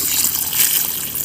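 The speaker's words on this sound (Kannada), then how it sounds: "ಬುಡಕ್ಕೆ ನೀರು ಹಾಕುವಾಗ ಈಗ ತಂಪು ತಂಪಾಗ್ಬೋದಲ್ಲ ಅದಕ್ಕೆ." Water is poured onto the sun-dried base of a fruit plant, a close, continuous splashing hiss with no talk over it.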